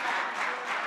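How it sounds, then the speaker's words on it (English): Audience applause at a charity giving-day event, a steady wash of clapping filling the short moment with no pauses or voices. "Who's clapping there?"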